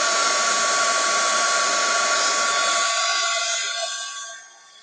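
A heat tool blows hot air onto decorative craft paper, a steady, close, loud whooshing hiss that holds evenly before fading away near the end, with no talking over it.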